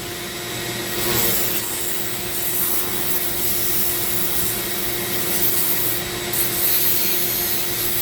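A zebra wood ring is sanded with 220 grit sandpaper beside a steady whining rotary tool, giving a close, continuous rubbing rasp with slight swells in intensity.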